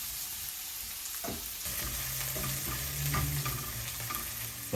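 Onions and curry leaves frying in a pan for squid curry, a steady close sizzle with stirring scrapes and clatter running throughout, no talk.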